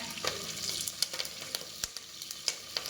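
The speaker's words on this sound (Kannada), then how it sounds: "ಈಗ ಬೆಳ್ಳುಳ್ಳಿ ಹಾಕ್ತಾ ಇದ್ದೀನಿ." Garlic, green chili and curry leaves frying in a pan for tomato bath, a steady close sizzle with small crackles and occasional stirring clicks.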